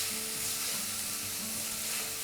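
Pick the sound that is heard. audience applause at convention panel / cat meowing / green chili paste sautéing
green chili paste sautéing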